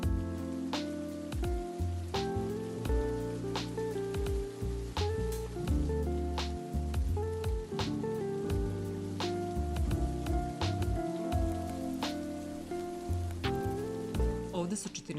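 Autumn rain falls on a plant nursery full of potted conifers, a steady close patter of drops with sharp individual hits on surfaces, continuing under a background of faint tones throughout.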